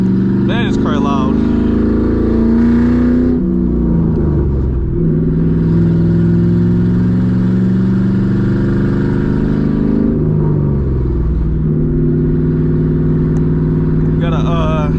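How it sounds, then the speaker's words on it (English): A loud, deep V8 engine of a 2007 Ford Mustang GT rumbles and revs up and down close by, with a harsh throaty straight-piped exhaust with an H-pipe and no mufflers; a voice speaks briefly over it. "Man, this car loud."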